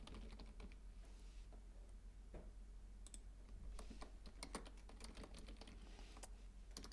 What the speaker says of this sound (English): after I finish typing these instructions